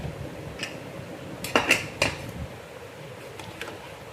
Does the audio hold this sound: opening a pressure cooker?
yes